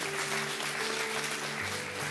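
A church congregation applauds, a dense steady wash of clapping that fills the space at an even level throughout.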